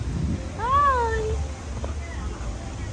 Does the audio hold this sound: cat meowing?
yes